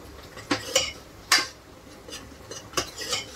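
A spoon stirring spice masala of coriander and cumin powder in a metal pan for chicken gravy, a few distinct scraping clinks spaced irregularly, close and fairly quiet.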